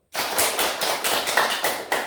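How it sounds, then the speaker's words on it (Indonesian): A classroom of students clapping together, a dense run of hand claps starting abruptly and holding steady at moderate loudness for about two seconds, close and lively. "untuk itu tepuk tangan dulu"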